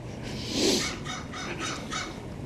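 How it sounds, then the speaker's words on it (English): A rooster crows once on a street in Montreal's east end, near Rue Fullum. The call is moderately distant and rises above a steady wash of city background noise, with a couple of fainter calls after it. "Mr. Crow crowing away now."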